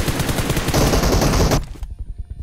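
Rapid automatic gunfire rattles in a mobile battle-royale shooter, a dense, loud burst of shots for about a second and a half, followed by a few scattered distant shots.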